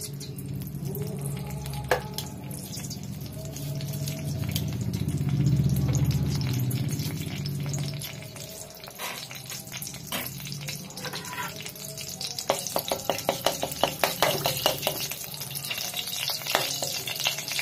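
Raisins, cashews, almonds and charoli frying in a pan for wheat kheer, a continuous crackling sizzle that swells, then breaks into rapid spattering pops and stirring clatter toward the end.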